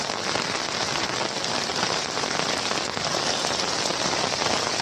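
Heavy monsoon rain in Kalyan drums steadily on a handheld umbrella, a dense, loud, continuous patter with close crackling drops and no voices.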